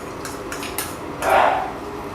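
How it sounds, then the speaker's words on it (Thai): Chili and garlic being stir-fried in pork lard in a pan, with a few sharp metallic taps of a utensil against the pan and then a swell of louder sizzling near the end. "น้ำมันหมูนะครับ นำพริกกระเทียมลงผัดครับ"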